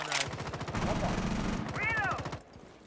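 In a shooter video game, gunfire comes through a wall as a rapid, regular stream of muffled shots. A voice talks briefly over it near the start and middle.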